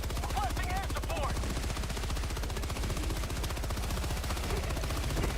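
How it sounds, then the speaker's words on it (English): In Helldivers 2, an air support strafing run sends a continuous, dense burst of heavy automatic gunfire that stays loud and close through the whole stretch, with faint voices underneath. "Strafing run."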